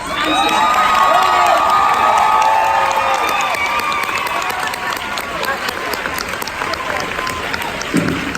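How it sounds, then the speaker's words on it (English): Loud audience applause and cheering with whoops and shouts from a crowd at a Handmaid's Tale cast and crew Q&A event at the Regency Village Theatre, sustained throughout and fading slightly toward the end. "I stepped on their applause"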